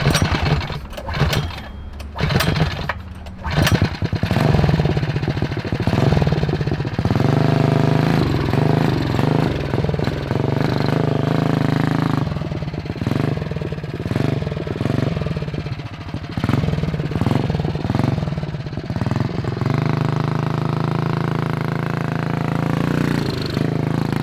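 A 228cc stroker engine on a 4WD Bronco Power Wheels ride-on sputters and revs unevenly at first, then settles into a loud, steady, close-up rough running drone.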